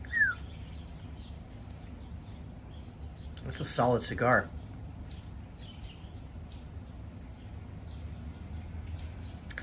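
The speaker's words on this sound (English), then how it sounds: "I like to hear those birds, man." A few faint bird chirps sound in the distance against a quiet city outdoor hum, with a brief spoken remark in the middle.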